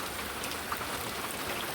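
Monsoon rain falls steadily on surfaces outdoors, a soft, even wash of patter heard alone without speech.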